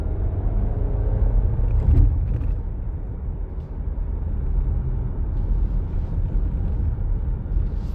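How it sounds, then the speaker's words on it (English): A 2023 VW Tiguan R-Line with a 150PS diesel and DSG gearbox drives along, heard from inside the cabin as a steady low engine and road rumble with a brief bump near the start. "I'll show you guys how the car pulls"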